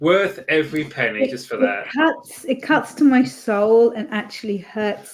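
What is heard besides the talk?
None of the usual background noises is heard.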